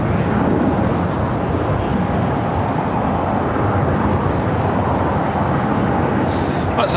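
A jet airliner departs LAX, a steady broad roar of engines at takeoff thrust that holds evenly loud across the whole stretch, with no talking.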